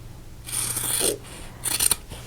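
Scissors snip the corners off fabric quilt blocks close up. Two distinct bursts of crisp metallic cutting and slicing are separated by a short pause, over a low background hum.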